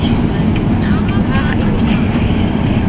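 Interior of a moving train: a steady, loud low rumble of wheels and carriage runs throughout, with faint higher rattles and what seem like distant voices in the background.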